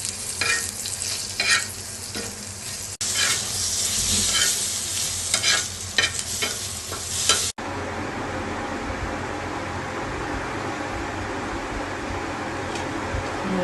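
Chilies fry in oil with a strong, close sizzle and busy stirring in the first stretches, giving way after a cut to a steadier, even hiss of frying.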